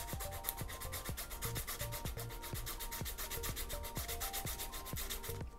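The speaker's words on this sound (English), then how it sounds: "You'll start with the medium grit sandpaper." Medium grit sandpaper rubbed by hand against a wood ferrule spinning on a lathe, a close, steady raspy scrape with regular rhythmic strokes throughout and no speech.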